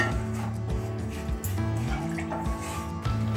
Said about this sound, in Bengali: কড়ার গায়ে যে মশলাটা লেগে আছে আমি এটা জলে ধুয়ে এই খিচুড়ির মধ্যে দিয়ে দেব।